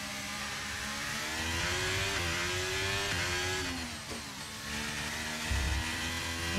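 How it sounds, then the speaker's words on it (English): A Formula 1 car in F1 2023 on the Portugal circuit revs hard at full throttle, a steady high-pitched engine whine with rising and falling pitch sweeps as it shifts, loud and continuous. "Playing with the throttle, the full throttle."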